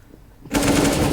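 Rapid automatic gunfire in a video game shooter match erupts suddenly after a quiet moment, a loud, dense burst of shots.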